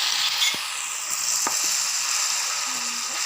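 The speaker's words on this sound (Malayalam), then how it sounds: "അപ്പം നമുക്ക് ചീനച്ചട്ടിയിലേക്ക് കോളിഫ്ലവർ ഇട്ട് കൊടുക്കാം." Cauliflower fries in hot oil in a cheenachatti, a deep Indian frying pan, giving a loud, steady, close sizzle with a few faint clinks and knocks over it.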